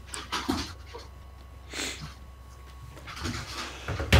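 A dog panting nearby, quick breathy huffs in short irregular bursts with a few snuffly sounds, fairly faint against a quiet room.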